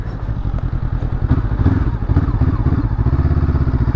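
A 2022 Honda CB500F motorcycle engine runs close by with a steady, throaty mid-range rumble and rhythmic clatter, holding a fairly even loud level throughout with no talking.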